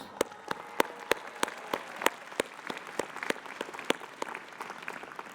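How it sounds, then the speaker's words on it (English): A small audience at a commencement ceremony claps, sharp individual hand claps popping in an uneven rhythm for several seconds, fairly close and without voices. "co-chair of MFA Design with Lita Tellerico, who's here today and deserves applause."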